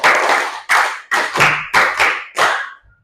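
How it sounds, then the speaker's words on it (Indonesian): A group claps a counted rhythm pattern together in a classroom. About seven sharp, loud bursts fall in uneven groupings, each with a short ringing tail, and no voices are heard. "Tepuk 1, tepuk 2, tepuk 3, tepuk 4, tepuk 5 2 kali."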